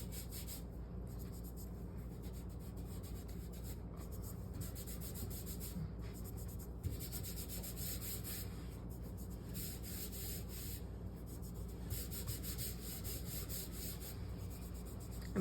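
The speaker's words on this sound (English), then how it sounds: "I'm just rubbing my fingers against the color, adding it." Fingers rub soft pastel color across paper in a continuous, quiet, dry scuffing, with short strokes recurring rhythmically for the whole stretch.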